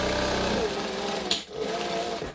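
A sewing machine stitches and backstitches a fabric laptop case, a steady close mechanical whir that pauses briefly as the direction changes and then runs on, with no talking.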